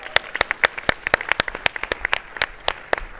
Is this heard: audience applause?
yes